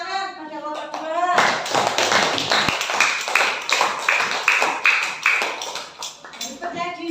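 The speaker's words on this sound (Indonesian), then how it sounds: "Beri tepuk tangan pada kelompok 2." Classroom of students clapping for a presenting student group, a dense burst of quick hand claps lasting several seconds, with a teacher's voice speaking before and after.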